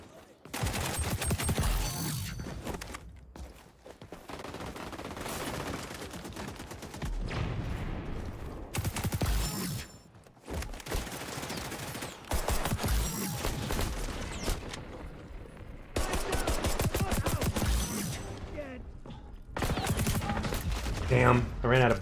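Rapid ACR rifle fire in the online shooter XDefiant, with loud sustained automatic bursts broken by short pauses and mixed with other game effects throughout.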